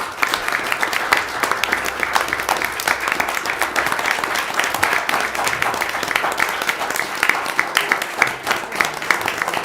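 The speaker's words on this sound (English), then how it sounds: "Huge round of applause for them all." A room full of people at a city council meeting claps steadily for nearly ten seconds, a dense, even patter of applause with no speech over it.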